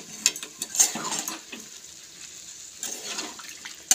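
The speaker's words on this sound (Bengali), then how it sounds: "এখন দিয়ে দিচ্ছি সামান্য একটু জল" Water poured into a fig curry while it cooks in a pan, a short splashing pour followed by light sizzling and clinks of a utensil, close and fairly quiet.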